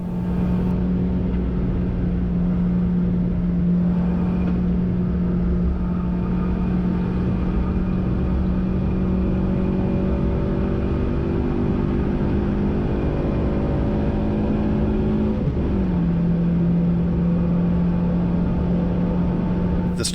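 A Toyota Vitz engine drones loudly and steadily from inside the car during a track day at Pukekohe. The pitch holds high and even in fifth gear, then dips and settles briefly near the end.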